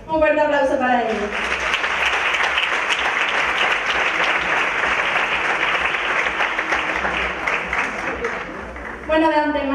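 Sustained, loud applause from a theater audience at a Miss Grand beauty pageant final, steady dense clapping with a voice speaking briefly at the start and end.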